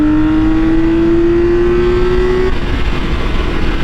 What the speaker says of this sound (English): Inline 6, I mean, come on, this sounds awesome.